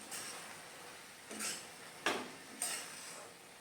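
Carrot halwa being stirred in a pan, a spoon scraping and knocking against the metal in three separate strokes, close and quiet, with no talking.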